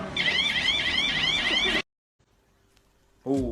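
A bicycle's loud electronic alarm warbles in a rapid, repeating rising tone for almost two seconds, cuts off abruptly, then briefly starts again after a pause.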